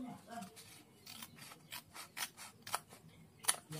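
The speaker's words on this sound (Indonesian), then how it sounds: "Kita gunting dua-duanya ya teman-teman." Scissors cut through both layers of a folded paper sleeve pattern in a series of crisp, close snips and rasping slides, with no talk.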